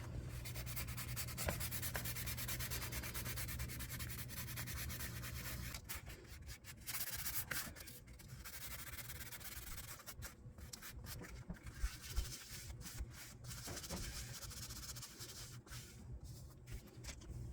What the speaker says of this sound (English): you're going to use your sandpaper and you're going to sand it down so it's level